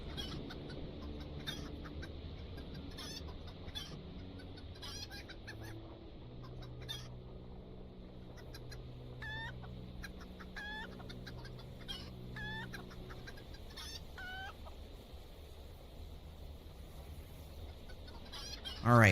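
Chickens at a chicken nest in the LOTRO game world cluck in repeated short, scattered bursts over a low ambient drone, moderately quiet throughout.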